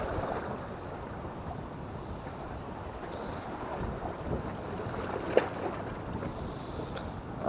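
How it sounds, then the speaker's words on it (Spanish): Wind and choppy waves rush around a small fishing boat at sea during squid fishing. A constant low roar of wind buffets the microphone, with water lapping against the hull and a brief knock near the end. "empezando a hacer oleaje y viento"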